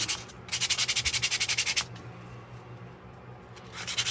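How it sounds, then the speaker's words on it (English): Sandpaper scrubbed by hand over a rusty USM3 knife guard, quick rhythmic back-and-forth rubbing strokes in a close burst, a pause, then strokes starting again. "Just hit it real quick with some sandpaper."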